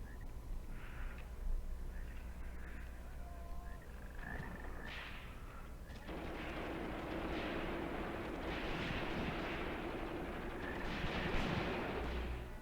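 Gunfire and artillery in the Graviteam Tactics war game, Kharkov 1941: scattered distant shots and muffled booms over a dense rumbling battlefield bed, growing busier and more continuous partway through.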